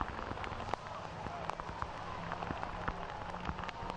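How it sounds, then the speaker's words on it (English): Wind-driven rain pours steadily onto Weidner Field, a soccer stadium in Colorado Springs, a dense continuous hiss with faint scattered taps, while crowd or commentary murmur sits low beneath it. "the wind here really coming, bringing that rain down at Weidner Field in Colorado Springs"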